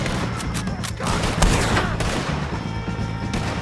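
Rapid gunfire crackles nonstop in a Red Dead Redemption 2 shootout against the O'Driscoll gang, loud overlapping shots and booms in a dense fusillade, with faint shouting underneath.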